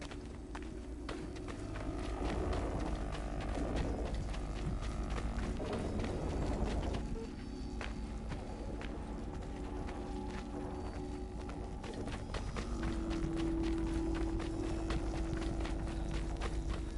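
Hooves of a horse clip-clop in steady rhythm through a game scene in Assassin's Creed 3, moderately loud over a continuous ambient bed with music-like tones, no talk.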